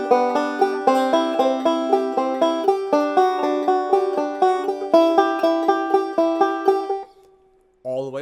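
Banjo picks a single 8-note roll before shifting double stops, a brisk, even stream of plucked notes moving up and down the neck, close and solo. It stops abruptly near the end, when a voice begins.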